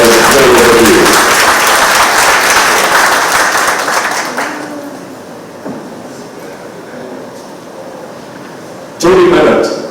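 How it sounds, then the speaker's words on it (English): Loud crowd applause from a public gathering at the National Trust Plaza in the San Carlos Heritage District, a dense wash of clapping that swells, fades to a quieter patter midway, then bursts up again near the end. "I suggest that we give them a round of applause for an initiative that is very overdue"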